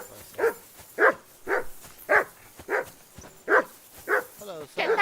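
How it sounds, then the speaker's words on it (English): A dog barks repeatedly in the video game Kingdom Come Deliverance 2, about eight sharp, evenly spaced barks close by, with a brief whine near the end. "Get that mutt of yours to stop barking, will you?"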